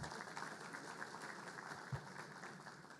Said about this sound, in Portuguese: uma salva de palmas aqui para Robson também